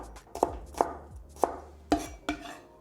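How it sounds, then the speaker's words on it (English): A knife cuts peeled garlic cloves into quarter-inch slices on a cutting board, giving about six crisp, separate chops at an uneven pace, close and clear with no talking. "Discard the ends and cut into 1/4-inch thick slices."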